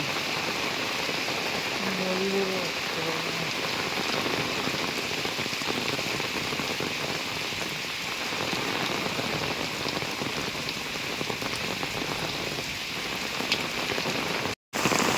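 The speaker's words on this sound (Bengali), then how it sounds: "মুসল ধরে বৃষ্টি" Heavy rain pours down steadily, a dense continuous hiss of drops hitting surfaces, with a brief faint low tone early on.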